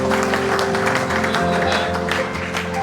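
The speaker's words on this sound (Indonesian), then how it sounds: "Berikan tepuk tangan untuk Tuhan" Guests clap at a wedding ceremony in a hall, a dense spell of applause with sharp individual claps, fairly close, over a steady background hum and faint voices.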